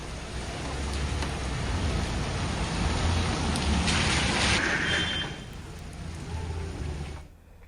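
Heavy monsoon rain in Uttarakhand pours down in a dense, constant hiss with a low rumble underneath, then thins out and cuts off near the end.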